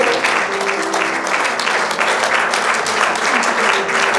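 An audience claps warmly for a children's orchestra after a concert, a dense continuous round of applause with a faint tonal hum underneath and no voices on top.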